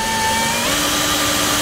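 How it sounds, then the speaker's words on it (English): A steady, loud mechanical whine of a power drill running a 3/4 inch hole saw while installing a trailer brake actuator, its pitch dipping slightly partway through, with no talking. "Now I'm going to use a 3/4 inch hole saw to drill this hole out"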